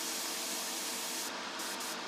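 A gentle, continuous stream of air from an airbrush blows over small plastic model parts, a soft close hiss that stays steady for two seconds with no talking.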